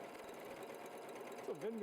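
W6 N 9500C sewing machine running steadily while sewing decorative stitches, a faint continuous mechanical whir with a brief voice near the end.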